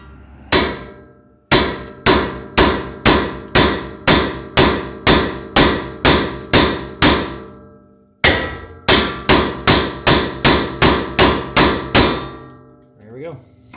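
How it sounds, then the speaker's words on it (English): A ball peen hammer strikes a suspension part on a 2021 Ford Ranger FX4 during a Skyjacker 3.5 inch lift install. About thirteen loud, close, evenly spaced metallic blows ring out, then a short pause and about eight more in steady rhythm. "we're going to strike this with a ball peen hammer to get this to separate and come loose"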